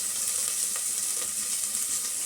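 Curry leaves and chopped onions frying in hot oil for sambar, giving a steady, close, even sizzle with a dense hiss that holds for the whole stretch and no voices over it.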